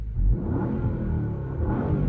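A Porsche with a sport exhaust, valves closed, idles with a low, steady exhaust rumble, continuous and fairly close, with no voices over it.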